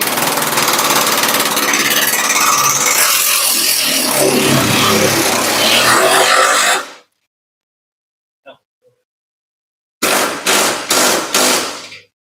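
Ratchet wrench tightening bolts on a Mazda Miata rollbar during installation, a loud sustained run of rapid clicking followed by silence, then several short bursts of ratcheting close by.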